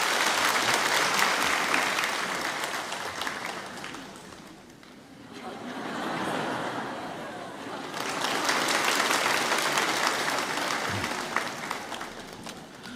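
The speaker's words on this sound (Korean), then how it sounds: "우리 박수로 이 아이를 축복합니다" A church congregation claps together to bless a child at a Sunday service on a rainy day, a dense, sustained round of applause that dips briefly midway and then swells back to full strength.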